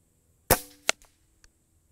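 A Benjamin Marauder .22 air pistol fires from a bench, giving a single sharp crack with a short decaying tail, followed by a quieter metallic click and a faint tap.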